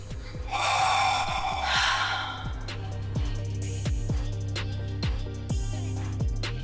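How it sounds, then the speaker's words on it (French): A deep breath drawn in and then let go during a guided breathing exercise, a loud, rushing, close inhale and exhale over the first two seconds, followed by quieter breathing and soft background tones. "grande respiration et relâcher sans contrôle."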